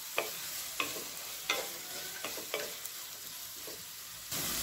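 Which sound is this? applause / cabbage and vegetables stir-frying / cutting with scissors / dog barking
cabbage and vegetables stir-frying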